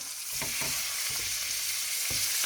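Rabbit pieces, including kidneys, legs and shoulders, browning in butter and oil in a pan give a steady close sizzle, broken by a few soft stirring scrapes.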